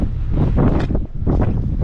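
Strong wind buffeting the microphone outdoors near a weather station, a loud roaring, gusting rumble that surges and eases in uneven waves.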